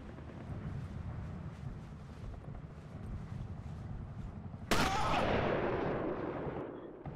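A single loud gunshot from the Sniper Elite video game cracks out near the end over a low, busy game ambience, then trails off in a long echoing decay; no one speaks.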